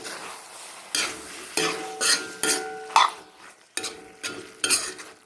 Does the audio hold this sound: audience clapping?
no